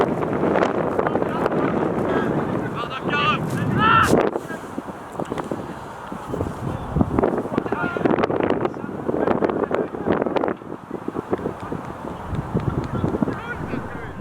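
Wind buffeting the microphone on an outdoor football pitch during an amateur league match, with loud rumbling gusts throughout, faint distant shouts from players, and commentary talking over it.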